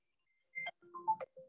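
A telephone ringtone plays a short melodic phrase of a few bright tonal notes, close and clear with no talking over it.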